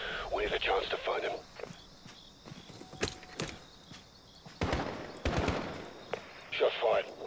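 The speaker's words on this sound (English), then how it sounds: "Shot fired" Gunfire in Call of Duty Modern Warfare during a night stealth mission: a few sharp, loud shots stand out against quieter footsteps and movement noise, and there is a burst of heavier activity near the end.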